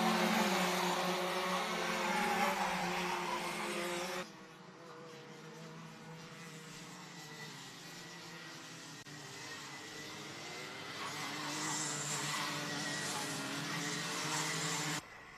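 Rotax Max junior racing karts at a Lithuanian challenge round sweep through the final corners, a steady buzzing engine drone with tyre noise that swells and fades as the pack passes, no talk over it.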